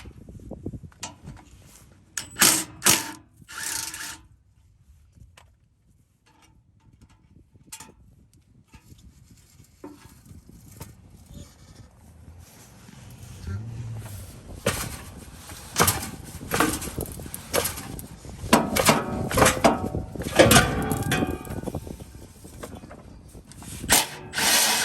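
Hand and power tools working on an exhaust hanger beneath a 2014 Ford F-150 EcoBoost, with scattered clanks, ratcheting and short buzzing tool bursts at close range and quiet gaps between them. Activity grows busier and louder in the second half.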